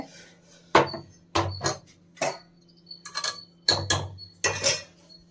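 A masher pressing cooked lentils in a pot for a one-pot home-style saaru, heard as a run of separate metallic knocks and scrapes against the pot, about eight irregular thumps close by, with no talk.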